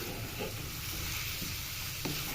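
Chicken with spices fries in a pan for pizza topping, a dense continuous sizzle with faint stirring clinks, close and steady, no voices.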